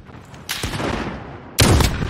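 Two loud bursts of mounted turret gunfire ring out in Call of Duty Warzone, each a sharp blast trailing into rattling echo, close and forceful.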